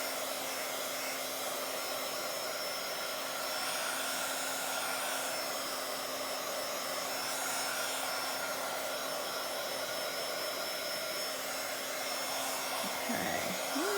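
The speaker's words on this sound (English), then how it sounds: "I have to pull it almost off camera to get the heating tool to it" A heat tool runs steadily and close by for the whole stretch, a continuous blowing whir drying lightly brushed-on paint on a Bible journaling page, with no talking over it.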